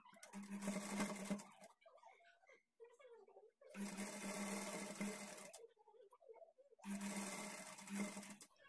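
A sewing machine stitches a blouse seam in three loud, steady whirring runs, each lasting a couple of seconds, with quieter pauses between them while someone talks.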